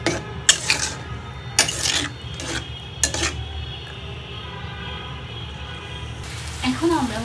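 Clanking metal as a spoon stirs boiled vegetables in a pot on the stove, a few sharp knocks at intervals over a low background hum, with a brief voice near the end.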